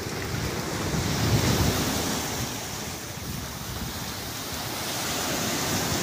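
Ocean waves break steadily on the shore at a river mouth where a crowd is fishing, a broad continuous roar with gentle swells and wind buffeting the microphone.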